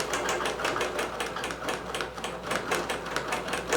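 A computerized quilting machine stitches a quilt pattern, its needle running in a fast, steady mechanical rhythm that stays loud and close throughout, with no voices.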